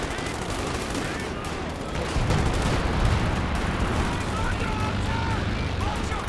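Artillery fire and explosions from a counter-battery barrage in Company of Heroes 2, heard as dense, continuous rumbling booms that swell after the first couple of seconds, with a voice talking over the top.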